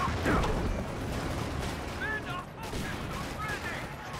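Machine gun fire and other weapons crackle through a Company of Heroes 2 urban battle, scattered bursts and impacts mixed with clanking mechanisms, with a voice talking over the combat.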